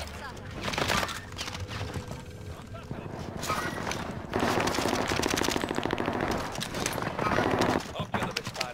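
Rapid bursts of video game gunfire in a military shooter, automatic weapons rattling repeatedly alongside shouting voices, loud and continuous over several seconds.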